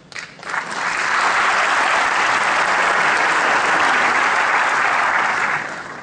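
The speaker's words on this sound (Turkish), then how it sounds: "Boşnak, oradaki Boşnaklar tercümeyi beklemeden alkışladılar." A hall audience of Bosniaks in Sarajevo bursts into loud, sustained applause after a speech, rising quickly and holding dense and even for several seconds before tapering off.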